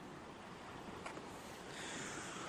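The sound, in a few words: Pacific Ocean surf at the shore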